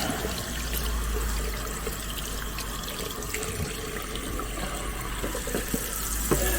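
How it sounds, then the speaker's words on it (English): Running tap water rinsing a laser-engraved stemless wine tumbler at a sink, a steady close splashing flow throughout with small clinks near the end and no speech. "And after you do that, just wash it."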